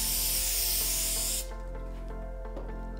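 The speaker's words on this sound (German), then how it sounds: "Sprühkleber." Spray adhesive hisses from an aerosol can onto a screen printing pallet while a shirt is prepared for textile printing: one steady, loud burst of spray for about a second and a half, then quieter rubbing and handling noises.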